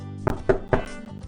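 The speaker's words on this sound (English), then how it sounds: "Granny heard a knock at her door" Three evenly spaced knocks rap on a door in a puppet theater story scene, close and distinct with nothing else around them.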